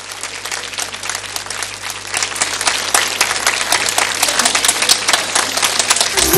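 A studio audience on a TV show gives a guest sustained, dense applause that swells slightly and stays loud throughout.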